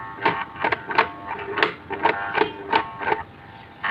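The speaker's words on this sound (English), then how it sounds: "If I put the plug in the socket, you will learn the sound, and you can see the series bulb is showing, and the motor is not running" A faulty juicer machine motor, plugged into the socket through a series bulb but not running, gives off repeated ticking, clicking bursts at a fairly steady rhythm, close and moderately loud.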